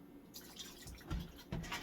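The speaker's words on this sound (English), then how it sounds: "You got the white vinegar. You're gonna open that up. Pour some in there." White vinegar poured over raw chicken while cleaning it in a kitchen, a faint dripping and splashing of liquid with a few soft spatters, quiet and close, with no talk.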